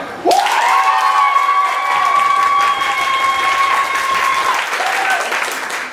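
An improv-match audience applauds to vote for a player, steady clapping running throughout, with a sustained whistle-like tone holding for several seconds over it before fading near the end.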